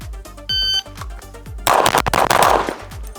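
A ported Limcat Wildcat pistol firing a quick string of sharp, close shots, with a beeping shot-timer tone early on and a burst of louder noise midway.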